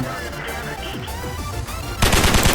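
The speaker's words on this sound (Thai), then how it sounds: "ปืนกลไม่โคตรแรงเลยเว้ย" Machine gun fire in a tank battle game with the Chaffee light tank, rapid repeated bursts with a loud dense volley at the end, mixed with someone talking excitedly.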